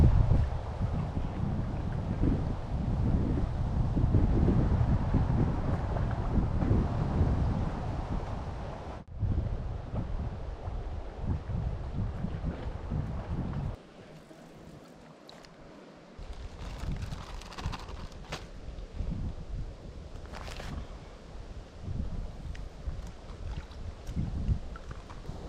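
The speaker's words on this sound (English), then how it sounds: "the wind is blowing right through the campsite" Wind gusting through an open wilderness campsite on a solo canoe camping trip, a loud, steady buffeting roar on the microphone that eases briefly midway before picking back up, with no one speaking.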